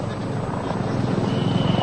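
A steady police patrol helicopter drone with a low, pulsing rotor thump throughout, fairly loud and continuous, with faint background noise.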